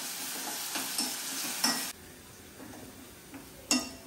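Onions frying in oil until golden brown: a close hiss of sizzling with a few spatula scrapes and light clinks against the pan, the sizzle dropping quieter halfway through before another sharp scrape.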